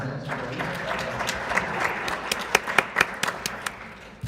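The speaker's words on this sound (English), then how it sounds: "we'll give her some applause" A congregation at a Sunday church service applauds. Broad clapping swells with a few sharper individual claps standing out, then gradually tapers off toward the end.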